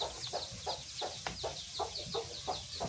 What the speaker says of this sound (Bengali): এর পাশে মুরগি ছেড়ে দেই